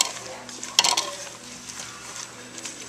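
A spoon stirs oatmeal into a hot chocolate mixture in a cooking pot, giving soft scraping and swishing with one bright clink against the pot early on, close and moderately loud.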